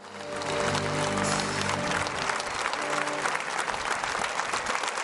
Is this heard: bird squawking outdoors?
no